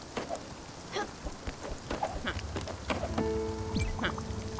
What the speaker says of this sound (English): Severe thunderstorm here.